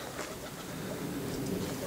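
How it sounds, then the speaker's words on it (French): Soft, low cooing of pigeons perched up high in a vegetable garden sits faintly within a dense, steady background hiss, the calls muffled and somewhat distant. "les pigeons sont là-haut"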